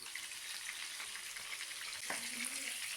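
Chicken pieces for a chicken dum biryani fry in hot oil with a steady, close hiss of sizzling that holds evenly throughout, joined by a brief soft clatter near the end.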